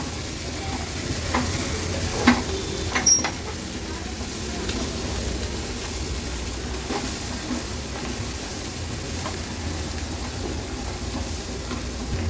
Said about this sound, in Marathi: आता मी ह्या मसाल्यांमध्ये मिक्स करून घेते